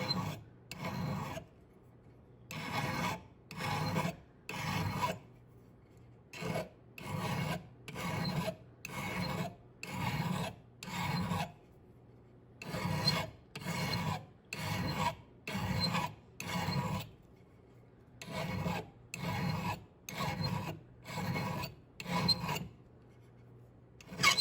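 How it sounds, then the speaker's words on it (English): Metal file refining the edges of a pierced metal cutout, rasping in steady back-and-forth strokes, close and clear, with short pauses between groups of strokes. "You can use the file to remove the marks from your saw"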